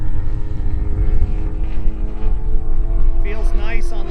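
Extra 330LX model plane with a DA50 gas engine and a regular canister muffler flying overhead, its droning propeller buzz steady and loud throughout with some wind noise.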